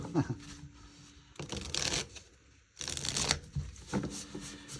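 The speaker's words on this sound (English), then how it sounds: "let me shuffle the cards and we'll get on with it." Tarot cards are shuffled in several quick riffling bursts with short pauses between them, close by and fairly quiet.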